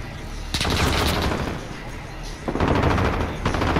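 Bursts of automatic gunfire in the video game Call of Duty: Modern Warfare rattle in two loud volleys with a brief lull between them, close and sharp.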